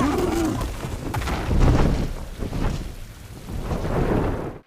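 A thunderstorm with heavy rain at Storm's End in House of the Dragon, steady downpour hissing under deep rolling thunder that swells and fades in loud surges, ending abruptly.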